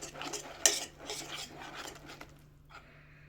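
A spoon scrapes and clinks through banana cake batter made with native saba bananas, sugar and plain flour in a bowl, with a sharp clink early on followed by steady close stirring and scraping that fades near the end.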